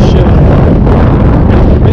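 Strong wind buffets the microphone on a lake during winter bass fishing, a loud continuous roar with gusty rumble throughout.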